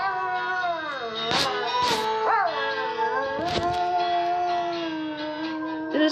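A dog howls along to music in long, wavering, sliding tones, with several rising and falling howls over a steady musical drone. The sound is clear and fairly close.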